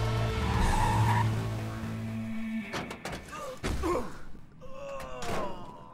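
A car in Battlefield Hardline roars with engine drone, then skids with sharp tire squeals and heavy thumps of impacts, loud and close, followed by more scraping and screeching slides.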